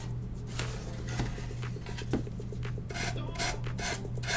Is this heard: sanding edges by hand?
yes